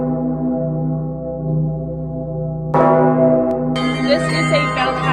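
Bell tower bells ring in sustained, humming tones, then a brighter cluster of struck bells enters partway through, louder and ringing together.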